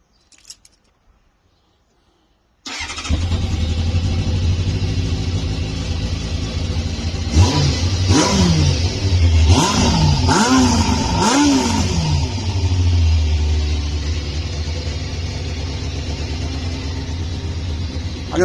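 A Kawasaki ZZR600 motorcycle engine starts up and idles steadily, a little lumpy when cold, then revs several times in quick rising-and-falling bursts before settling back to a loud, close idle; no talking.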